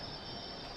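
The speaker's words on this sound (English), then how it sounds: "when I heard a train" Steady rumble of a passing train used as a sound effect in a horror radio story, a brief continuous roar with a faint high squeal, heard alone.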